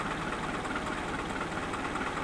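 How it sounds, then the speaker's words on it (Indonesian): A car engine idles with no other electrical load switched on, a steady, unbroken mechanical hum with a faint rapid knock, recorded close up and without talking. "Ini hanya mesin ya yang nyala tanpa beban yang lain"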